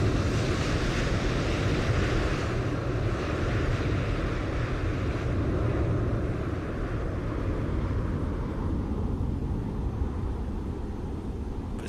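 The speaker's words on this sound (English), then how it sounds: "There's no way we would have got those engine sounds like that from AIG." Airliner jet engines in a flight simulator, an FSTL aircraft model climbing out from Dallas–Fort Worth toward Belize: a steady, loud broadband roar with a low rumble and a faint hum that slowly eases, heard alone.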